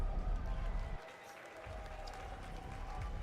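A crowd at an esports match in Rotterdam claps and cheers in a steady, moderately distant wash of applause that dips briefly and then swells back up.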